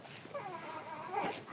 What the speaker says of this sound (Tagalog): yun yung nag-iingay na may aso